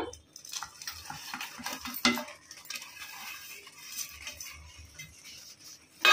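A spoon scrapes and clinks against a pot while jaggery is added and stirred into cooked rice, irregular metallic stirring strokes close by with soft thuds, no talking.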